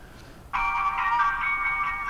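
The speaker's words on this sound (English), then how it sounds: "Hey, a phone call." A phone rings in the inFAMOUS Second Son video game, a steady electronic tone that starts abruptly and holds for over a second at moderate volume.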